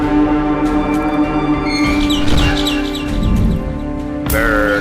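Bird chirping in the horror video game Garten of Banban 6, short tweets rising over steady, dense game music that fills the whole stretch.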